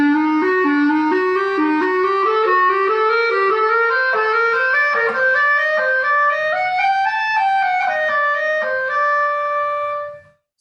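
Solo clarinet running continuous scale patterns in Middle Eastern modes, rising steadily then settling, played alone, close and fairly loud, ending with a held note.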